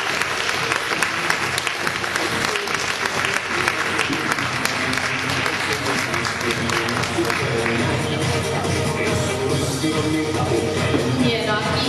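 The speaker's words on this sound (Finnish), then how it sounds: "Annetaanko vielä yhdet aplodit koko porukalle?" Sustained audience applause at a May Day closing ceremony, thick steady clapping with some cheering running for the whole stretch, loud and close, with scattered voices mixed in.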